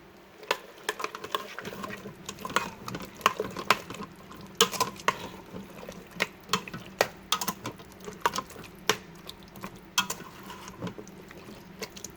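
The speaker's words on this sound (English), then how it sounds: "here are our 2 cans of beans that have been drained and rinsed, and they are going in here, and we're going to mix those all around" Drained, rinsed canned beans being stirred into chili in a Fissler Souspreme multi pot, producing irregular soft clicks, scrapes and wet patter from a utensil against the pot, fairly close and quiet.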